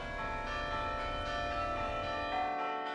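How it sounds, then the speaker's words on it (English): Church tower bells of the Mother Church ringing from just a few feet away, loud and resonant with rich overlapping tones, sustained strikes layering before fading toward the end. "we're only a few feet below the actual bells themselves, so the sound here is quite loud"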